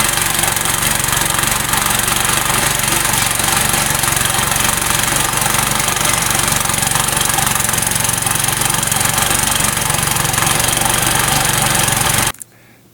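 A small gasoline snowblower engine runs steadily and loudly up close for about twelve seconds, then cuts off abruptly, leaving near silence.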